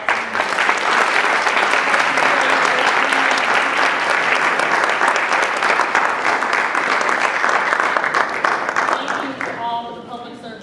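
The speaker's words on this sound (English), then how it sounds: "Let's give them a round of applause." A crowd at a mayoral debate applauds steadily for several seconds, loud and sustained, then the clapping fades out near the end.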